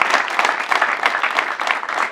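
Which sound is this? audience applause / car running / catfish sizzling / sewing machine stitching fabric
audience applause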